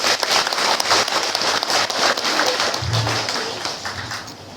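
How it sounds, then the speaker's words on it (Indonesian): Applause for the organisers at a graduation event, a dense steady patter of many hands clapping throughout, loud and close, with faint voices underneath. "Tepuk tangan untuk pengurus."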